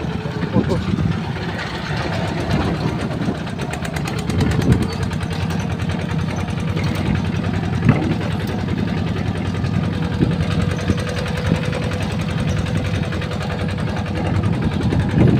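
A steady, rumbling engine runs continuously at close range, chugging evenly with a low mechanical drone and rattling vibration throughout.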